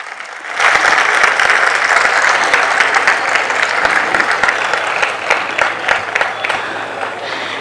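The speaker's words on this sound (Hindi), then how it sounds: "एक बार आप लोग अपने लिए खूब जोर से ताली बजा लें" A convention hall audience at a youth gathering bursts into loud, sustained clapping that holds steady for several seconds, dense and close, slowly thinning toward the end.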